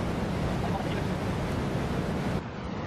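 A massive forest waterfall pours as a steady, full rush of water, close and loud, easing slightly near the end.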